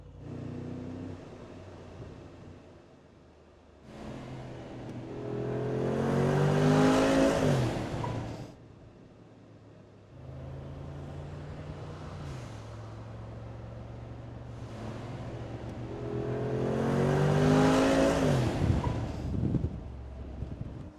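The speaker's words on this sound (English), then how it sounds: "Okay, so let's actually drive this car around." A Brabus 6X6 passes while driving and revving hard, its engine building to two loud surges with rising gear-shift tones, the climbs separated by quieter steady running and wind buffeting on the microphone.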